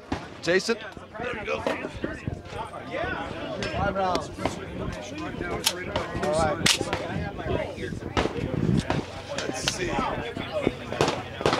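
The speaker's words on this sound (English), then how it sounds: "This is probably the best gun I've ever fired. Suppressed." A suppressed firearm fires repeatedly at an outdoor shooting range during a trade-show range day, with sharp, muffled reports in an uneven series, mixed with people talking nearby.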